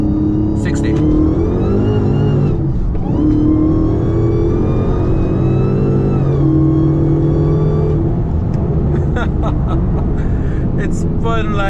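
A Dodge SRT Hellcat launches hard on a night drive, its engine revving loudly with rising pitch through repeated surges while the tires spin. A person talks over the roar.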